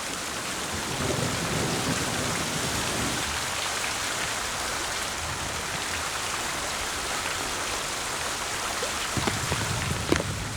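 A summer monsoon thunderstorm pours heavy rain in a steady, dense hiss of drops on surfaces, with low rumbles of thunder rolling underneath and a few sharper drips standing out near the end.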